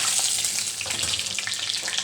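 Garlic frying in a little oil for chicken soup, a steady close sizzle and crackle filling the whole moment with no voices.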